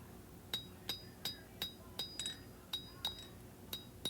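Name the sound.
hammer forging a knife blade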